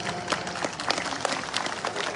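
Steady applause from a crowd, a dense patter of many hands clapping at once, fairly loud and continuous throughout.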